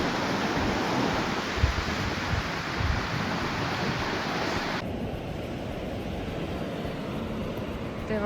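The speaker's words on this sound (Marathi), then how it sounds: "पाण्याचा आवाज पण भरपूर जोरदार येत आहे इकडे" Atlantic Ocean surf rolling onto Matosinhos Beach near Porto, a steady broadband roar of breaking waves mixed with wind buffeting the microphone, continuous and fairly loud with no voices.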